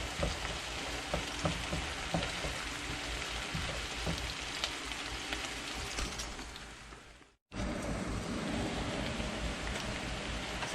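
Fresh tomatoes with onion and garlic sizzle and crackle in a pan while being stirred, a steady frying hiss that cuts out briefly and resumes, with no talking.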